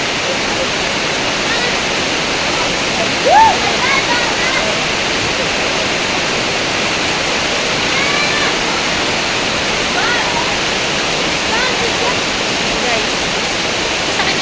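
Loud, constant rushing water roars without a break, like a swollen stream or small waterfall close by.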